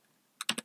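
Three quick, close keystrokes click on a computer keyboard after a short moment of near silence.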